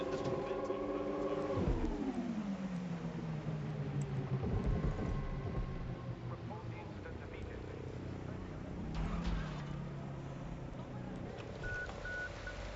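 A car engine in the video game Watch Dogs Legion drones and revs, its pitch sliding down as the vehicle slows, with game sounds and beeps layered over it and a voice talking in the background.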